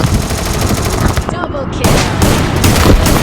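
Rapid bursts of automatic gunfire in the video game Free Fire crackle loudly in quick succession, with a brief pause before the shooting resumes.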